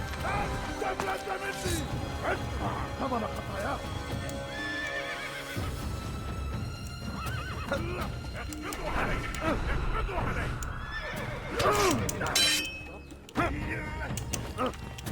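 Horses in Assassin's Creed neighing and whinnying over clip-clop hooves and galloping, several loud calls rising above busy game effects and clatter, with someone talking over parts of it.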